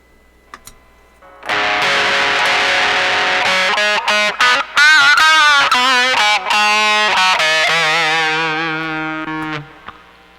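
Electric guitar through a Distortion Plus effects pedal, loud fuzzy sustained notes and chords with gritty harmonics, played alone after a brief quiet start and ringing out near the end.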